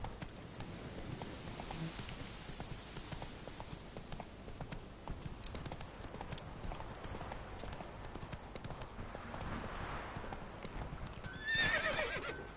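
Horse hooves clip-clop steadily at a gallop in The Witcher 3: Wild Hunt on PS4, with a loud whinny near the end over continuous game ambience.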